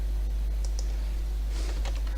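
Short burst of computer keyboard typing during a software demonstration, a few soft key clicks close by over a steady low hum, no speech.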